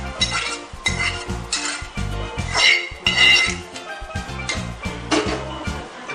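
Pav bhaji vegetables being stirred and mixed in a metal pan, with repeated scraping and clinking of a spoon against the pan in an uneven rhythm over a light sizzle, close and fairly loud.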